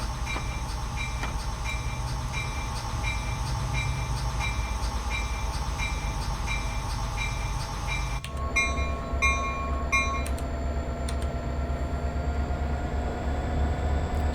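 An F40PH diesel locomotive in Train Sim World 3 pulls away with a steady loud diesel drone and rail rumble, with a rhythmic clicking pattern that shifts in pitch midway.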